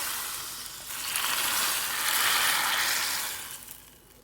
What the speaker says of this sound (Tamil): நான் இப்போ வந்து நெய்யில் வந்து கடுகும் ஜீரகமும் தாளித்து கொட்டியிருக்கேன் அதை வந்து இதில் போட்டுக்கணும்